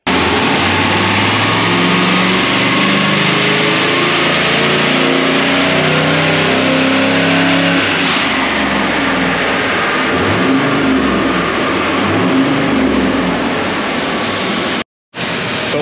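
Toyota 79 Series Landcruiser with a G400 Gturbo running, a loud, close, steady engine drone with deep rumble and turbo hiss, broken by a short cut near the end.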